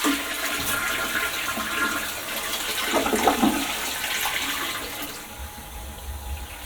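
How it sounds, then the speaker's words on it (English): Toilet flush in a resort hotel room, a steady rushing, gurgling water roar lasting several seconds before easing into quieter refill trickling, close and loud, with no speech. "We got to actually flush the toilet."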